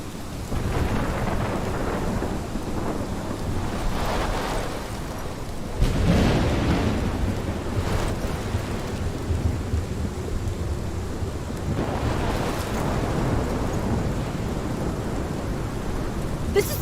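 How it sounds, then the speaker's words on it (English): In the video game Life is Strange, a thunderstorm brings steady heavy rain and low rolling rumbles of thunder, with louder cracks near six and twelve seconds, loud and continuous throughout. "This is my storm."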